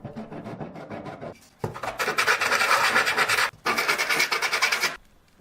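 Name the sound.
sanding a plywood piece by hand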